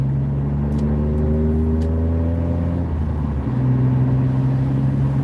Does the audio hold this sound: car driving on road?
yes